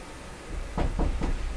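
Three sharp knocks on a door in quick succession, fairly close and loud against a steady low background hum, with no talking.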